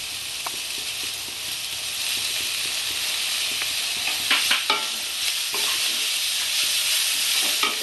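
Onions fry in a pan with a steady, loud sizzle, and occasional sharp scraping and stirring clicks sound over the hiss near the middle.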